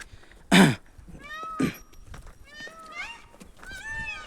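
Peacocks let out repeated loud, wailing, meow-like calls after a sharp thump near the start.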